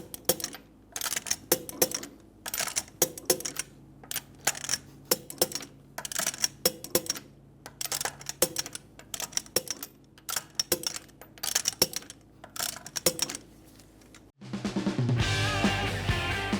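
A torque wrench tightens the lug nuts on a 2011-2014 Hyundai Sonata wheel, giving bursts of sharp, close ratcheting clicks in an uneven rhythm. Loud music cuts in near the end.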